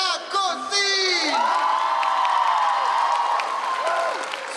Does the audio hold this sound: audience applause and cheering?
yes